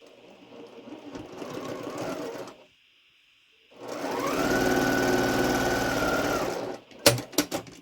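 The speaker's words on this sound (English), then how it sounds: "So I'm going to sew these 2 together." A sewing machine joins quilt half-square triangles for a star quilt, running in a short burst, pausing, then a longer steady whir, close and clear, ending with a few sharp clicks.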